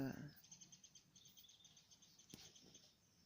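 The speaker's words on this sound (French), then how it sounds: "on entend les oiseaux qui vont se percher pour dormir" Faint, scattered chirps and short calls of birds settling to roost at dusk, in a quiet evening setting, with a brief soft knock partway through.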